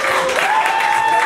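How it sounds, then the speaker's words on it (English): A comedy club audience claps and cheers in a steady, even wash of applause that holds at the same level throughout. "you can applaud."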